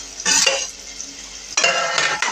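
Two bursts of loud, close scraping and stirring sound in a pan as boiled potatoes go into a frying samosa filling. A soft sizzle runs between the bursts.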